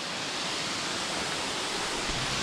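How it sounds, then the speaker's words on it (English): A waterfall along a New York stretch of the Appalachian Trail gives a steady, dense roar of rushing water, continuous and full, with no voices. "Nice waterfall."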